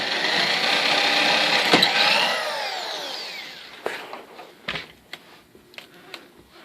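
A drill bit bores through material while fitting a handle to a DeWalt DWX724/DWX723/DW723 saw stand, loud and steady at first, then slowing and dropping away, followed by several sharp clicks and knocks.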